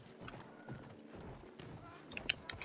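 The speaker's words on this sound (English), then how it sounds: "let's take a horse." A ridden horse's hooves in Battlefield 1 clop in quick, irregular beats, faint and mid-distance over low battle ambience, with a sharp bright clink near the end.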